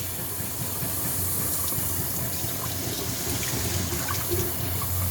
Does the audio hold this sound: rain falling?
no